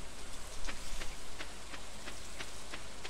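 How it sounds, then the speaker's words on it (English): Steady rainfall in the farming game Stardew Valley, a soft continuous patter with faint droplet ticks repeating at a regular pace, heard alone with no voices. "It's a nice rainy day,"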